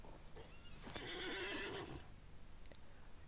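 A horse in a video game gives one loud, drawn-out whinny with a rising then shaking tone, followed by a few soft hoof clops against a low background hum.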